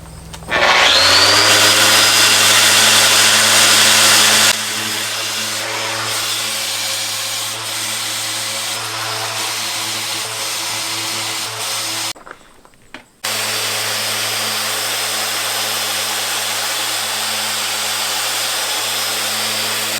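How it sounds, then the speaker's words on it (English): A loud power sander whines and roars continuously against wood, its pitch shifting as pressure changes, briefly cutting out before running steadily again. "We'll do a little bit of more video while I'm sanding"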